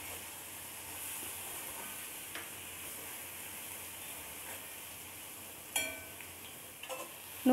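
Bottle gourd peel fries in a pan with salt and turmeric, giving a steady, low sizzle and hiss. A few louder scrapes of stirring come near the end.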